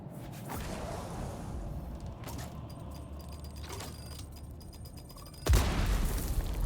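Mines detonate in the video game Dune Awakening, with low rumbling blasts and whooshing debris throughout, then a sudden loud boom near the end.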